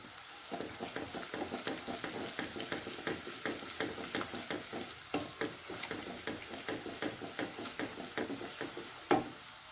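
Cumin seeds sizzle and crackle in hot oil while a dal tadka is prepared for Punjabi sabut moth dal, with a steady fry punctuated by repeated sharp pops and stirring clicks and one louder knock near the end.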